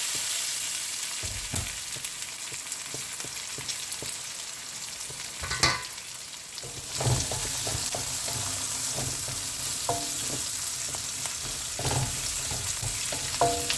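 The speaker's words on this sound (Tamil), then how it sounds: "அதை இந்த ஆயிலில் இப்போ நம்ம ஆட் பண்ணிடலாம். ஸோ இப்போ இதை நாம் நல்லா சாட் பண்ணணும்." Cut leaves sauté in hot oil for a parrot fish pollichathu masala, crackling and sizzling steadily up close, with irregular louder stirring scrapes and pops.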